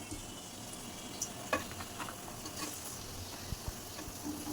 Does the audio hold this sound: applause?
no